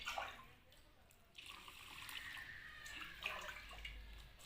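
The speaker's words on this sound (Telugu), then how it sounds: "ఫస్ట్ మంచినీళ్ళతో కడగాలి" Toor dal and moong dal are washed in water, with soft swishing, trickling and small splashes. The sound is quiet and close, and the sloshing swells midway.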